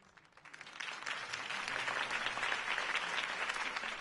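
A crowd applauds after a campaign speech for a city political candidate, steady dense clapping that swells in and holds, fairly distant and even with no talking over it.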